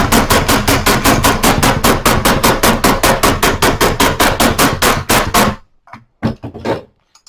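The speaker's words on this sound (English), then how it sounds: "and then take a small hammer" A small hammer beats folded sheet copper clamped between two wooden boards, striking in a fast, steady run of loud metallic blows for about five seconds, then a few scattered lighter taps after a pause.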